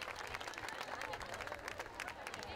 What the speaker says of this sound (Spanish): Ese aplauso para la agrupación folclórica Guaisa.